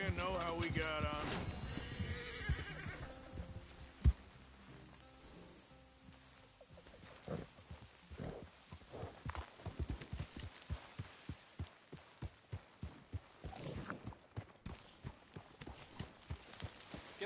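Horse in Red Dead Redemption 2 whinnies near the start, then steady clip-clopping hooves follow in a close, even rhythm, with faint game speech in the background.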